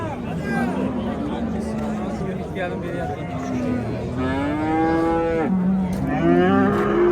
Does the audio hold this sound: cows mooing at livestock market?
yes